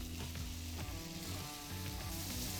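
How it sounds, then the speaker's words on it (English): Diced onions frying in hot oil make a loud, close, continuous crackling sizzle with light stirring, steady throughout and with no one talking. "add in some of those diced onions"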